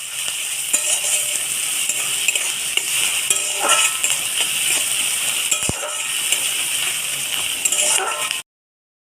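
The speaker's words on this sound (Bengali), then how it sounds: "পেঁয়াজটা দিয়ে দেব লঙ্কা কুচি পেঁয়াজটাকে একটু ভেজে নেবো" Chopped onion and green chili frying in a pan make a loud, dense, continuous sizzle for about eight seconds, with a few faint clicks, before it cuts off abruptly.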